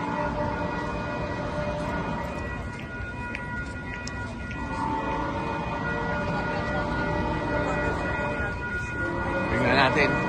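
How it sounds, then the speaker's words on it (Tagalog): A train passes along the coastal rail line beside the San Clemente boardwalk, a steady broad rumble with horn-like tonal bands, running continuously and swelling near the end as it draws close, with voices talking over it. "Yan yung train."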